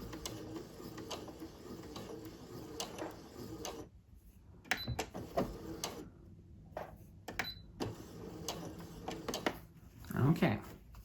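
A sewing machine stitches and back-stitches a satin-lined head scarf, its rapid mechanical ticking running in short bursts with pauses between and a few louder clunks, close up.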